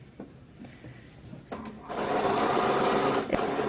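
A sewing machine runs steadily, laying a line of top stitching along a striped shirt about an eighth of an inch from the edge; a few faint handling taps come before the motor starts and hums on loudly to the end.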